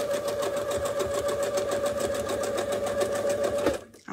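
Sewing machine stitching fabric during free-motion quilting, a fast steady mechanical whir with rapid regular needle ticks that runs loud and even, then stops abruptly near the end.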